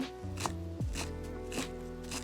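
A knife chops courgettes roughly on a board at an outdoor farm cookout, a few separate soft knocks spaced unevenly at close range, with a low steady hum running underneath.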